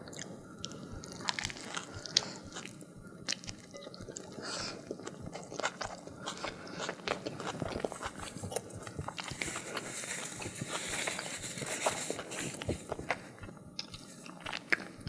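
Wet, crunchy bites and chewing of a Five Guys burger topped with bacon, close to the mic, with steady irregular mastication noises and scraping wrapper sounds throughout, no talking.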